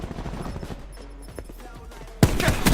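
Sniper rifle fire from the SDM in a first-person shooter video game, with a sudden loud burst of gunfire near the end after quieter game ambience and faint talk.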